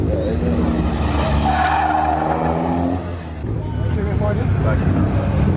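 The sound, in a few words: Audi car drifting with tyres skidding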